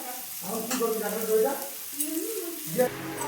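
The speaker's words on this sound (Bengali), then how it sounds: "টমেটো কুচিটা সঙ্গে ভালো করে ভেজে নেব" Chopped tomato frying with spices in a pan as a filling for stuffed eggplant, a steady sizzle with stirring beneath a voice that talks over it.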